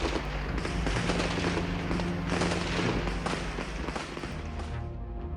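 Dense, continuous crackle of gunfire and blasts during night street fighting amid barricades in Bucharest, a sustained loud barrage with overlapping sharp reports over a low rumble, no talk.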